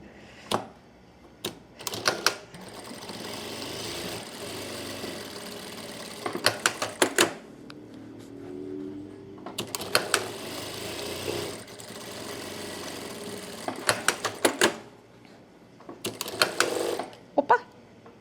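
A sewing machine finishing the last stitches of a fabric cachepô at a live tutorial, running in several sustained bursts of steady mechanical whirring separated by pauses and sharp clicks, close and clear.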